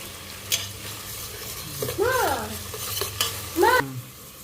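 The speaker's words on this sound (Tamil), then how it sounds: "இப்போ வெங்காயம் போட்டாச்சு நல்லா ஃப்ரீ ஆகும் கோல்டன் கலரில் வெங்காயம் வதங்கிட்டுருக்கு" Onions sauté in a pan for prawn biryani, giving a loud, close sizzle under repeated scraping stirs of a spoon, with a couple of brief squeaky tones as the utensil drags.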